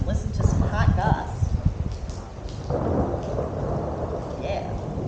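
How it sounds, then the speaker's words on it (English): A thunderstorm with rain, low rumbling thunder and a steady hiss of rainfall, heard beneath a person talking over it. "hang out and enjoy this sweet thunderstorm"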